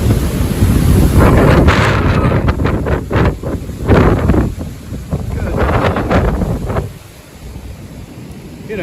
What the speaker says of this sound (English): we're still getting very strong winds